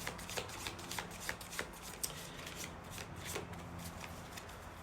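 Oracle cards being shuffled by hand, a quiet run of soft riffling flicks and light taps against a faint hum, with no talking.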